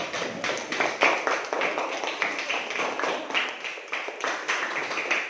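A classroom audience claps hands together in a steady scatter of overlapping claps, moderate and fairly close, lasting throughout with no talk.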